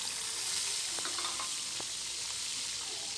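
Chopped carrots and bell peppers sizzle steadily in a hot pan for chicken chow mein, a close continuous hiss with a couple of soft stirring knocks, no voices.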